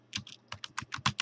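Crisp, distinct keystrokes on a computer keyboard as a terminal command is typed, about eight clicks in an uneven rhythm, close and clear with no talking.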